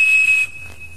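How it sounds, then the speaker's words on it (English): A Captain Crunch cereal-box toy whistle, its hole glued, blows a single piercing steady 2600 Hz tone for about half a second, then a faint lingering ring over low background hum. "the Captain Crunch whistle"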